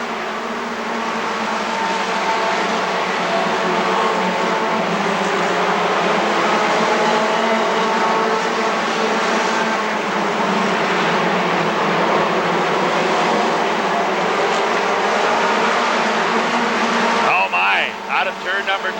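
Race cars roar around the oval at Rockford Speedway in a late-race dash to the finish, a loud continuous engine drone with rising and falling passes throughout, and a commentator talking over it.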